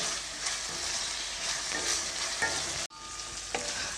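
Tomatoes fry with salt in a pan for masala mandakki, giving a steady close sizzle with stirring scrapes, a brief cut of near silence near the end, then the sizzling resumes with no talk.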